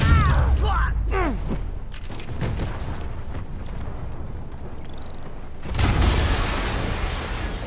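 A large explosion in Marvel's Spider-Man booms close and loud at the start, then a long rumbling, crackling wash of debris and machinery follows, swelling again near the end.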